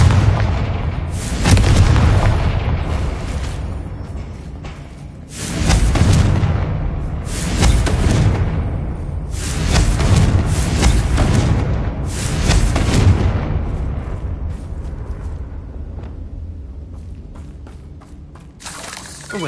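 Repeated fiery explosions from the Confringo spell in Hogwarts Legacy combat, five or so loud booming blasts with crackling tails and rumbling low end, spaced a couple of seconds apart before fading to a quieter rumble.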